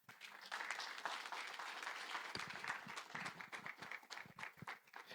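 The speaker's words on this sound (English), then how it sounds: "I don't think that round of applause is deserving of the gems we just got." Applause from a conference audience at a financial literacy and wealth creation training event, steady clapping from many hands lasting the whole stretch at moderate level with no talking.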